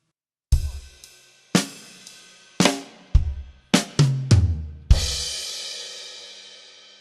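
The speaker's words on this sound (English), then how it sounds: "If we orchestrate it around the drums," A drum kit plays the final measure of a song: a series of separate, ringing hits spread across the kit, closing on a crash that sustains and decays alone.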